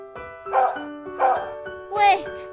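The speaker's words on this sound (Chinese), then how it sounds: "原来是一只小狗啊。" A small, injured dog gives three short, high-pitched barks or yips about half a second apart, close and fairly loud, with a held tonal hum running underneath.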